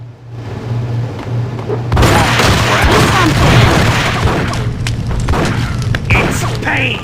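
Gunfire and heavy booming impacts in the video game Max Payne, a loud, dense barrage of shots and thuds, with game voices speaking under the din.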